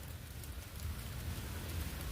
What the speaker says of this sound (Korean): 비가 오고 있잖아